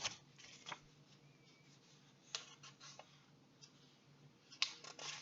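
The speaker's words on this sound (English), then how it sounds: "I can't get this page turned, Elliot." A book page being handled and turned, with soft papery rustles and a few sharp crinkling flicks near 0.7 s, 2.4 s and 4.6 s, close and quiet, with no talk.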